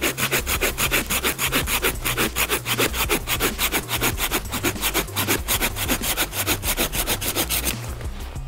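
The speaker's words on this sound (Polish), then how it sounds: "Ta piła jest naprawdę bardzo wygodna i szybko tnie" A hand saw cuts through wood in fast, steady back-and-forth strokes, loud and close, with the rasping rhythm continuing evenly before stopping just at the end.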